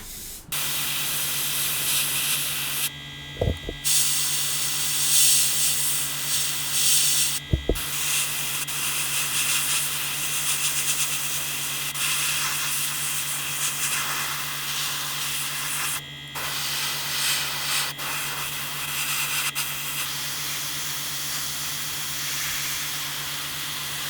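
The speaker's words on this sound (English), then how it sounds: "this again is MRP's RAF dark green, and just mist it on the same as we did for the other colours" Steady close airbrush hiss misting MRP RAF dark green paint onto a 1/48 Airfix Westland Lysander model, with two brief clicks and short gaps in the spray.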